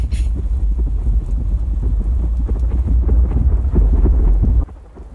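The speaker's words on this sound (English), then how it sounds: "Lightning and the thunder." Thunder and heavy rain in the Roblox game Apeirophobia, a loud rolling rumble over dense steady rainfall that cuts off abruptly near the end.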